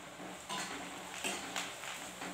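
Potato stuffing being stirred and roasted in a pan, with a spoon scraping and clinking against the metal in irregular strokes over a soft, steady sizzle, close by and with no talking.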